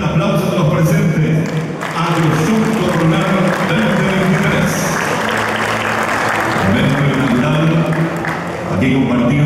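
Crowd applause at the official AgroShow Copronar 2023 inauguration, sustained clapping from many hands throughout, loud and steady, with voices and crowd murmur mixed in underneath.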